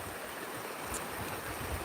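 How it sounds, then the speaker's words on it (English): A peaceful river flows at sunset, a soft steady wash of moving water heard faintly at a distance, continuous and fairly quiet. "This beautiful, beautiful, peaceful river."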